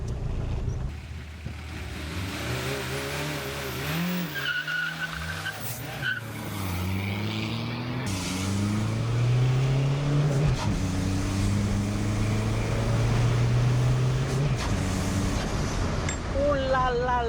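Peugeot 306 TD diesel car accelerating, the engine note climbing in rising harmonic sweeps through the gears, loud and close, with a gasp and brief voices breaking in mid-run.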